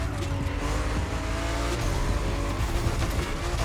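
W Motors Fenyr Supersport taking a turn in the racing game The Crew Motorfest: a loud, steady engine roar with layered harmonic tones, with a hint of tire squeal running throughout, close and continuous.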